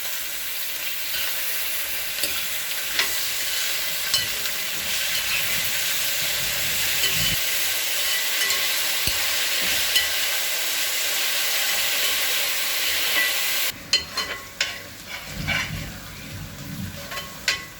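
Masala sautéed with a little salt in a pan for Kerala-style beef fry, giving a loud, steady close sizzle with frequent stirring scrapes throughout and a brief shift in texture near the end.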